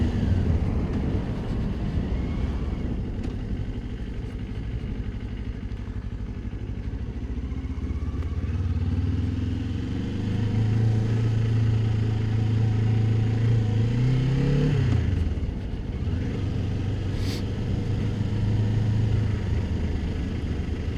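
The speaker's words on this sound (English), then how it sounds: "I think this bike's got a bit of a rattly either cam chain tensioner or the valves" A motorcycle engine with a rattly cam chain tensioner or valves runs steadily nearby, a low continuous rumble with a clattery edge and a brief rise in revs partway through, with no talking.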